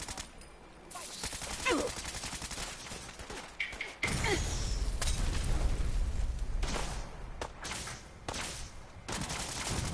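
Gunfire in the video game Fallout 4 Far Harbor: bursts of rapid automatic fire and scattered shots crackle loudly through a tense battle, with a deep booming rumble midway and voices calling out now and then.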